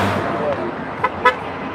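Short car horn toots sound near a roadside Tesla protest in Austin, two quick honks rising over traffic noise while people talk nearby.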